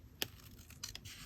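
Scissors trim a scrap of paper at a craft table, one sharp snip followed by a couple of softer cuts, close and quiet with no talking.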